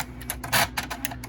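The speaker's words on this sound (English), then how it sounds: "So I can turn this typewriter on." A typewriter wired up as a computer printer switching on and initializing, with a short series of mechanical clicks and clacks and one louder whirring burst in the middle.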